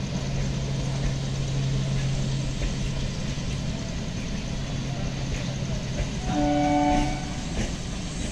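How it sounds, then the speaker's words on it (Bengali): A Bandel-Naihati down local train rolls past near Bandel Junction with a steady rumble, and a short horn sounds near the end over the running noise. "37534 ডাউন ব্যান্ডেল নৈহাটি লোকাল"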